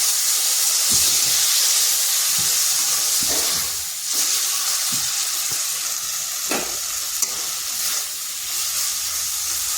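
Garlic cloves and ginger pieces fry with salt in a pan for egg momo chutney, a steady close sizzling hiss broken by occasional stirring scrapes, with no talk.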